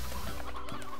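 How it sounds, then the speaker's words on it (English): Stony hen chickens clucking in the video game Slime Rancher, a quick burst of several close, distinct clucks. "I'm gonna take these stony hens."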